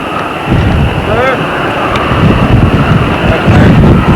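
Gusty wind on a farm buffets the microphone with low rumbling roars throughout, and a brief chirp of a bird is heard early on.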